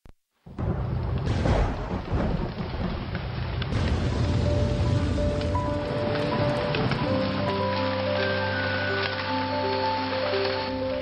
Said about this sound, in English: And suddenly it rains.